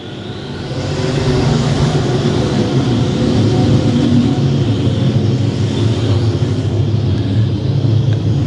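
Dirt track race car at an I-35 event for modifieds, vintage cars, pure stocks and late models, its engine throttling up in a loud, steady roar that rises in the first second and then holds for the rest of the stretch.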